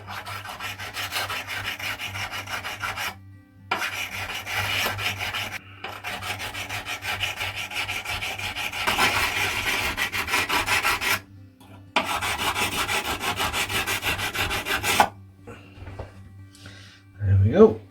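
Rubbing the frets of a 1970s acoustic guitar during restoration: steady, rasping strokes in long even passes with brief pauses between them, close and clear.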